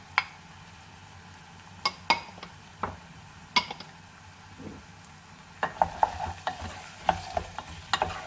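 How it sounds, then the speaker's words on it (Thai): Ingredients for pasta and potato soup being stir-fried in a pot, with a low sizzle under sharp, irregular spoon clinks and scrapes that grow busier and more rapid toward the end, close and fairly quiet. "ผัดทุกอย่างร่วมกันด้วย"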